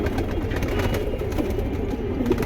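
King pigeon cooing among other birds, a steady low murmur of coos under constant loud background noise, close and continuous.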